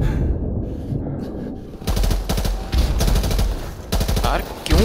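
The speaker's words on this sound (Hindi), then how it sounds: "यार क्यों इतनी बुरी फायरिंग कर रहे हैं ये लोग" Enemy machine guns fire in Call of Duty: Modern Warfare Remastered, loud rapid bursts breaking out after a quieter stretch and continuing in repeated volleys, with a voice speaking briefly underneath.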